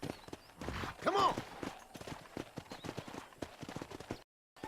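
Horse hooves clip-clopping at a brisk trot in the open-world Western game Red Dead Redemption 2, an even rhythmic patter with a brief whinny-like call near the start, fairly quiet, under faint talk and cutting out abruptly near the end.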